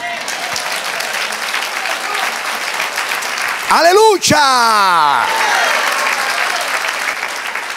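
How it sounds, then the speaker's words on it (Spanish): A church congregation applauds at length, a dense, loud wash of clapping with shouts from the crowd, while a voice calls out over it through the middle. "Denle un aplauso al Señor"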